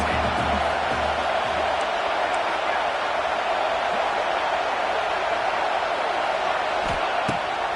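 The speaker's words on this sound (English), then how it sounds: "This crowd going to try to make life miserable for these guys." A stadium crowd in a college football video game roars as a broad, constant wash of noise, loud and unbroken throughout, with a few faint thumps near the end.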